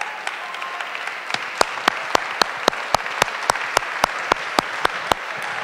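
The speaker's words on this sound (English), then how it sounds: "So let me introduce Rick Strassman to you. Applaud." Applause from a conference audience at a psychedelics talk, with a steady bed of clapping and one nearby person's loud, evenly spaced individual claps standing out in a regular rhythm.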